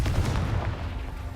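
Confringo spell blast in Hogwarts Legacy, a burst of booming, gunfire-like explosive impacts with heavy low rumble, loud at first and tailing off over about a second.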